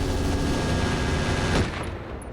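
Mech weapons fire in the RogueTech video game, a dense, continuous barrage of loud gunfire and blasts that holds steady, then thins after a sharper burst near the end.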